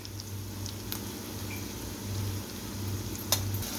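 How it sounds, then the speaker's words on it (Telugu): Vegetables fry steadily in a pan for a home-cooked curry, a continuous soft sizzle with faint stirring scrapes and a brief clink near the end, no voices. "ఇలా వాటిని ఒకసారి వేగనిచ్చుకోవాలి."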